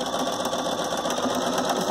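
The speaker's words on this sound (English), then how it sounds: "So your needle will hit right at the intersection of the orange and brown fabric. And you're going to sew." A sewing machine runs at a steady, even whir, stitching orange and brown quilt fabric for a lone star diamond block. The needle's rapid rhythm is close and continuous throughout, with no talking.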